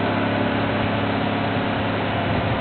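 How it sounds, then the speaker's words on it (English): A small engine beside steam locomotive #2716 drones steadily, a constant low rumble with mechanical chatter, close and fairly loud with no voices. "making a lot of racket. No, that's a little engine there you can see."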